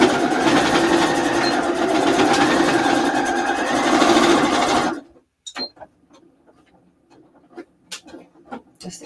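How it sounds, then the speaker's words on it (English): A sewing machine on a straight stitch with normal stitch length runs in a steady, fast, close whirring hum for about five seconds, then stops abruptly, leaving a few faint clicks and handling sounds. "I'm just going to put it back on a straight stitch, normal stitch length and everything, and I'm just going to do a wee back and forward"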